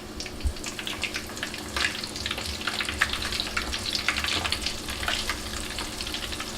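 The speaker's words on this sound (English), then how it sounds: "Yep, the sizzle means it's ready." Flour-dusted chicken wings frying in hot grease, a close, steady crackling sizzle with bright popping bursts throughout, no voices.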